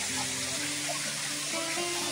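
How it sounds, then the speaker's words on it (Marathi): A small waterfall pours into a little rock pool near Ramdharneshwar temple, giving a steady, close rushing and splashing wash of water that fills the whole moment. "धबधबा येतो या कुंडामध्ये पडतोय"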